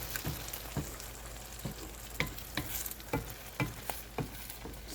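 Egg with onion and tomato sautéing in a pan: a steady close sizzle with periodic scrapes and stirring strokes every half second or so, no voices.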